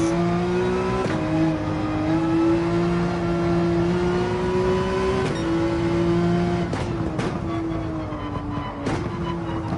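A Porsche 911 Gr.3 race car in Gran Turismo 7 revs hard and accelerates with a loud, steady engine drone, its pitch rising and dipping through gear changes, with brief sharp bursts as the car is pushed on track.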